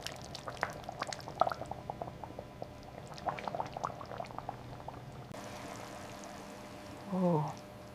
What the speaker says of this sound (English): Pouring the sweet and sour broth.